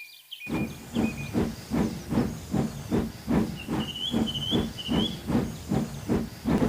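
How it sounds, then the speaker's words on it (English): A brief high guard's whistle sounds, then a steam locomotive chuffs off with steady, rhythmic exhaust beats and hissing steam, another whistle-like tone riding above. "As the guard blew his whistle, he started off."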